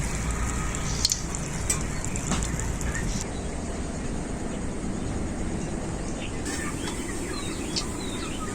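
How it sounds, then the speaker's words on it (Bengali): Pointed gourd fritters fry in hot oil with a steady, even crackling sizzle throughout, faint and continuous, with a few light clinks of utensils early on. "একইভাবে সবগুলো ভেজে নেব।"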